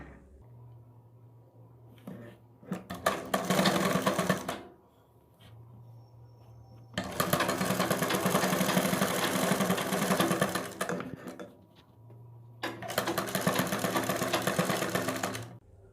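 A sewing machine stitching a neck piece onto a kurti, running in three loud close bursts of rapid whirring with quiet pauses between.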